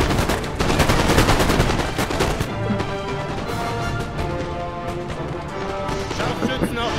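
Massed musket gunfire from a Napoleon Total War battle, with dense crackling volleys and rapid overlapping shots running continuously and loudly throughout, heaviest in the first few seconds.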